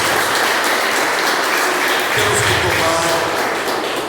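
Worshippers in a church congregation clap together in a dense, steady round of applause that stays loud for the whole stretch, with a voice faintly present underneath.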